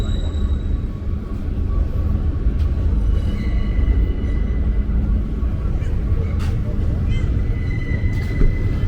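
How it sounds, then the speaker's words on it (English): An elevated Q subway train passes near the Coney Island boardwalk in Brooklyn, a steady loud rumble of wheels on rails with faint squeals and hiss throughout, and no clear speech over it. "Looks like you got some trains going on here."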